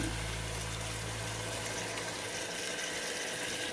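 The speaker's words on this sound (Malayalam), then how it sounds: "അപ്പോൾ ഞാൻ വെള്ളം ചേർത്ത് കൊടുക്കുകയാണ്" Hot water is poured into a pan of Kerala-style pepper chicken, giving a steady close gushing, splashing pour that runs continuously without talk.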